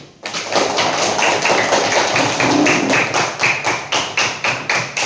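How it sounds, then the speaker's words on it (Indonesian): An audience in a university training session claps for a presenting group, dense and loud from the start, then slowing into uneven rhythmic bursts toward the end, with no voices over it. "Berikan aplaus untuk kelompok 1."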